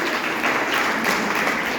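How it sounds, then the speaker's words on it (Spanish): A church congregation applauds during a pastor's sermon, a short, steady burst of many hands clapping together, fairly full and close, with no talking. "Démosle un aplauso a él"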